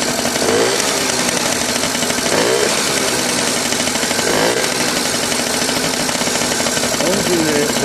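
Two-stroke 50cc engine of a 1981 Yamaha Champ scooter running on first start after a rebuild with too much oil in the mix, a loud, buzzy, raspy drone close by that revs up and down in waves, with voices underneath.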